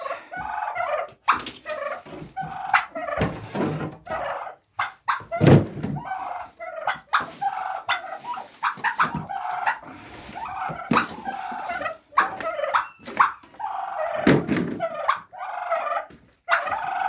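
Turkeys gobble and cluck nearby in bursts as they are let out of a coop, the calls overlapping in a busy, continuous flock chorus with occasional thunks.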